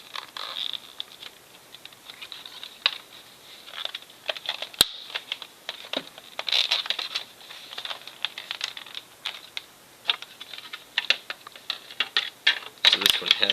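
Plastic parts of a 2012 Nerf Elite Hail-Fire blaster click and snap into place in a rapid, irregular run of small, close taps that continues throughout.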